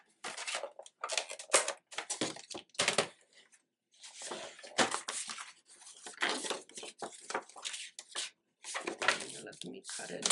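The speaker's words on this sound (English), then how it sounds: "let me cut it this way so at least it's straight." Paper being cut for a handmade junk journal, with repeated snipping and rustling strokes in bursts, a short pause, then more cuts close by under occasional quiet handling noise.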